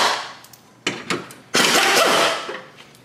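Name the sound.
ratchet undoing 10 mm bolts on Ford Focus headlight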